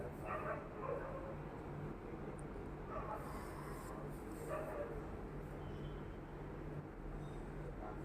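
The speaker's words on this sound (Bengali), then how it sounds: "আশেপাশে কুকুরগুলো ডাকছে।" Dogs barking faintly at night during a Durga Puja outing, a few scattered yelps and barks at a distance over a low background murmur that may include faint voices.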